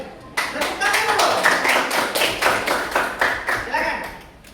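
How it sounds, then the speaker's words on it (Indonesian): A classroom group claps in unison, about a dozen loud, sharp, evenly spaced claps in a steady rhythm that tapers off at the end, with faint voices in the background. "Woi, tepuk tangan dulu."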